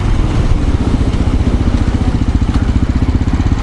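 A SWM RS650R motorcycle engine idles close by, a steady loud low-pitched thumping pulse with a fast even rhythm and mechanical clatter, running alone without voices.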